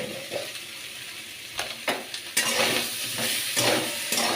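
Grated ginger, cumin powder and a little sugar sauté in a pan, crackling and sizzling with repeated scraping strokes of a spatula that grow louder partway through.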